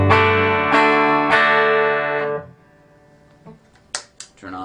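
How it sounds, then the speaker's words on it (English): Clean electric guitar chords, with an overdrive pedal off, strummed three times and left ringing, then fading to quiet with a few faint clicks and taps near the end. "Go back to the clean sound real quick for reference."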